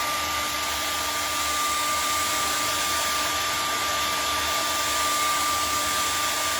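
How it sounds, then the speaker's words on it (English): A hair dryer blows steadily to dry acrylic paint on a canvas, a constant loud whooshing whine with an even electric hum, running alone without pause. "we're going to take our handy dandy hair dryer and dry off those trees"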